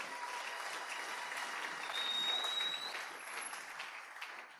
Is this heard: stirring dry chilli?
no